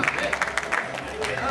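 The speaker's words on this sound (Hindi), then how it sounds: "जल्दी से तालियां बजाओ।" Audience applause at an astrology and vastu research conference, dense steady clapping from a crowd with chatter mixed in across a short burst.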